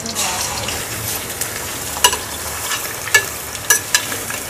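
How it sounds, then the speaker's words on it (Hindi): Chicken frying in hot oil in a karahi on a stovetop gives a steady, close hiss of sizzling, broken by a few sharp metallic clinks and spatters. "ऑयल गर्म हो गया है, तब हम इसमें चिकन डाल देंगे।"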